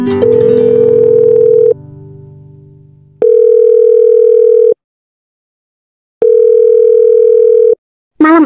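A telephone ringback tone sounds in long, even pulses separated by silences, loud and clear, after an initial tone.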